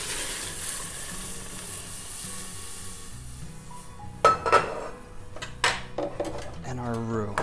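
Milk goes into a roux cooking in a pan for Oysters Rockefeller. A quiet sizzle and bubbling fills the first half, then sharp clinks and scrapes of utensils against the pan follow, with a voice briefly heard.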